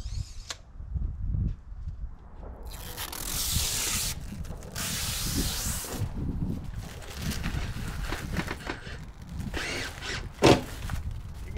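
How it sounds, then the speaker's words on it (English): A power driver sets screws into a sunroom window frame, with bursts of whirring and grinding across several seconds, close by, with rubbing, handling noises and a sharp knock near the end. "Let's set some screws in it."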